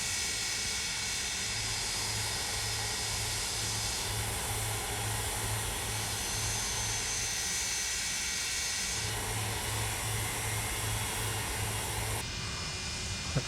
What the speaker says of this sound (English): Southwest jet taking off.